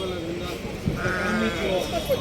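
Sheep and rams bleat in a busy livestock market, with wavering calls rising over a constant crowd murmur and people talking nearby.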